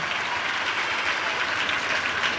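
An audience claps at a Tamil political speech, a dense, sustained burst of applause that stays loud and even throughout with no voices over it.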